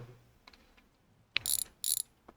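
Brake hoses being undone on an old Mercedes wagon in a home garage, with a few soft metallic ticks followed by two short, sharp ratcheting bursts of a tool close by, and no voices.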